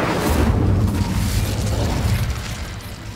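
The Incendio fire spell is cast in the video game Hogwarts Legacy, a loud, close roaring burst of fire that rumbles for a few seconds and slowly tapers off, with no talking.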